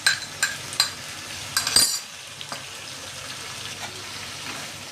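Black peas and potatoes tipped into sizzling masala in a pan, with soft frying hiss, scattered clinks and scrapes of a spoon stirring, and brief sharp knocks near the start.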